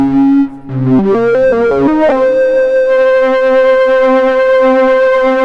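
A Sequential Pro 3 synthesizer flute patch plays a quick run of rising notes, then settles into a sustained, gritty, distorted note that rings out with a slightly pulsing edge, like a guitar with feedback.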